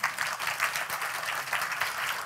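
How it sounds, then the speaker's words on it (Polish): At the opening of a film festival, an audience breaks into sustained applause, many hands clapping in a lively, slightly pulsing rhythm, close and loud with no voices standing out. "Brawa, brawa."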